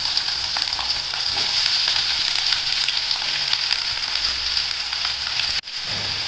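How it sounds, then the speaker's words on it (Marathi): Onion frying in oil in a home kitchen while making Konkani goda masala, giving a steady, close, continuous sizzle with a brief sharp dip near the end. "थोडा तेल टाकलंय आता कांदा भाजून घेते"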